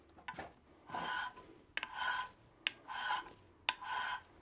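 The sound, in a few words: filing small parts with a hand file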